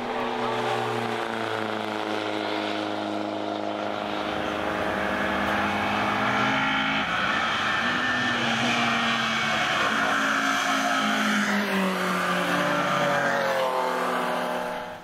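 Continuous roar of several pre-1976 vintage race cars on the Nürburgring North Loop, rising and falling in pitch as cars pass, steady and loud throughout with no talking.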